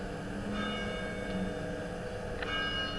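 Church bells in the video game Getting Over It ring with long sustained tones and a couple of soft strikes, steady and moderately distant with no talking.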